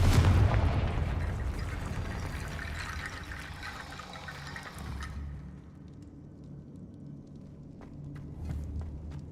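A Confrigo frost spell cast in Hogwarts Legacy bursts with a loud, broad whooshing blast, then a brighter hissing wash that fades out after about five seconds, leaving low rumble and a few faint clicks.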